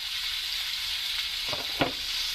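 Spices of chili powder, cumin and coriander powder sizzling in hot oil in a pan for a ridge gourd and raw fish curry, a steady hiss with a couple of brief bursts of crackle, close and alone.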